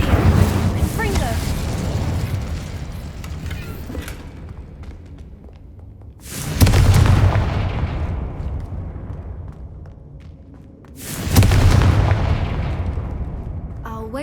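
Incendio and Confringo spell blasts in Hogwarts Legacy, three loud booming bursts that each hit hard and then rumble and fade over several seconds, evenly spaced apart.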